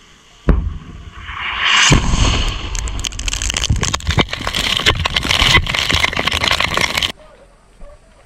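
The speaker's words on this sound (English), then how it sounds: "A grenade exploded." A grenade goes off during close-range fighting between Russian and Ukrainian soldiers: a sudden loud blast, then a second burst and several seconds of harsh crackling and rumbling noise that cuts off abruptly.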